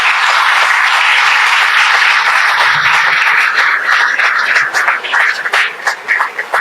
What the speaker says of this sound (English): So with a great round of applause,